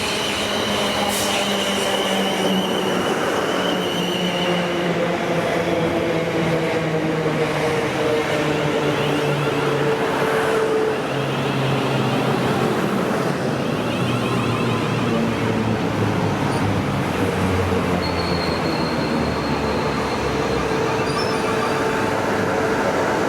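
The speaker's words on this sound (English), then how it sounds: "there's another 455 stopping on the other platform towards Hampton Court" A Class 455 electric train stands and moves at a station platform at New Malden, with a continuous loud rolling rumble, rising and falling motor tones and brief wheel squeal, a few faint voices in the background.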